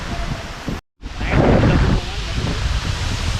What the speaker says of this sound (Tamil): அப்பா காற்று பாருங்க எப்படி அடிக்குதுன்னு.